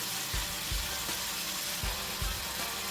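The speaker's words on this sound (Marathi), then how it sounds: "हे प्रॉन्स आपण हाय फ्लेमवर असंच एक दोन ते तीन मिनटं शिजवून घेऊया" Prawns cook over a high flame for a Thai green curry, producing a soft, steady sizzle with a few low bumps of the pan or spoon and no voices.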